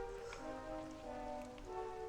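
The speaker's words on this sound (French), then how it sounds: "s'il pleut encore plus, ça me fait glisser" Steady rain falls during a mountain climb in Dragon Quest XI, a continuous soft patter that stays even and fairly faint under a sustained tonal game soundtrack, with no talking.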